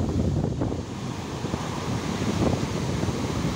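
Big waves crashing and strong wind buffeting at Damas beach in Watulimo, Trenggalek, a loud, steady roar of surf mixed with wind gusting against the microphone, continuous throughout with no voices.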